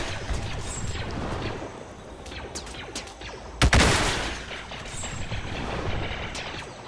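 Gunfire in Roblox Clone Wars on Felucia, with one sharp, loud blast standing out over a steady rumble of distant shots and battle noise.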